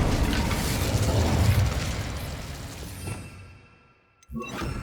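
A burst of fire from the Incendio spell cast in Hogwarts Legacy, a loud roaring crackle that fades over about three seconds into near silence before a sharp new hit sounds.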